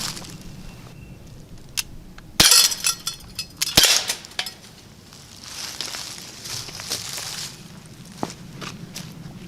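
A few sharp snapping shots from an Umarex Beretta BB pistol fired at a Daisy target, spaced pops with brief metallic clinks and rustling between, moderately close, no speech.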